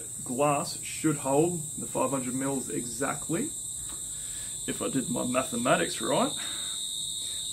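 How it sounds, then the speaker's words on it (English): Crickets chirping on a summer evening in Australia, a steady high-pitched trill running the whole time beneath someone speaking close to the microphone. "the crickets are going off as you can hear"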